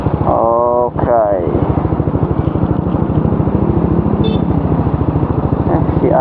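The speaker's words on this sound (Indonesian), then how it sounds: "Si Ade naik motor Doraemon" A Yamaha Nmax scooter-style motorcycle being ridden, its engine droning steadily and close throughout, with a brief rising rev near the start and constant wind and road noise.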